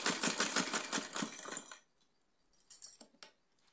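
A sewing machine stitches a frilled cotton dress in a fast, even run of needle clatter for about two seconds, then stops, followed by a couple of faint clicks.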